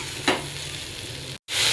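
Mustard seeds, curry leaves, chopped onion and green chili with a pinch of sugar fry in hot oil, giving a steady close sizzle with a soft stir near the start and a brief cut near the end.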